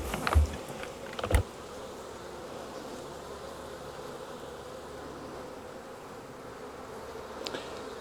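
Honey bees from a caught swarm hum steadily inside a hive box, a low continuous drone that stays soft and even throughout, with a few faint knocks near the start.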